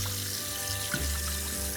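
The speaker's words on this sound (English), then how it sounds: "Then I'm going to put some hot water in this" Hot water poured from a tap into a jar while making green chile chicken soup, a close, steady stream with rising gurgling tones as the jar fills, alone without talk.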